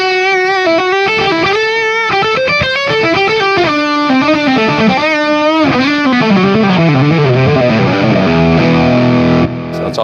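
Electric guitar played through a Nova System multi-effects unit on its distortion setting with a touch of delay: a loud, sustained stream of distorted notes and chords that rings out alone, then cuts off abruptly near the end.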